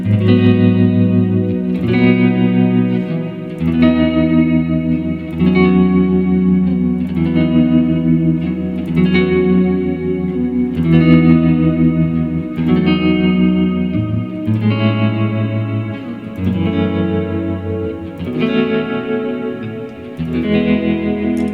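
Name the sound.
guitar through modulation pedal with reverb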